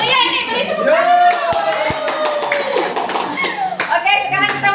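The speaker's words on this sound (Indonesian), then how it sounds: "Oke, buat kita beri tepuk tangan untuk kelompok 3." Group of people clapping for a team at a workshop on vision and change initiatives, steady applause throughout with voices, including a child's, mixed in.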